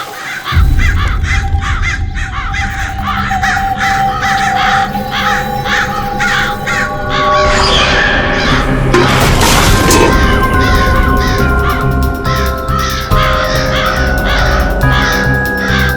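A flock of crows cawing aggressively, dense overlapping harsh calls continuing loud and close over a rumbling, crashing background.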